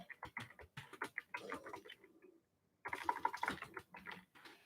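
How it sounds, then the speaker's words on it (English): Rapid, close clicking of someone typing on a computer keyboard, in quick irregular bursts with a short pause in the middle, heard alone without speech. "I'm just typing that in as a suggestion here, Rowan."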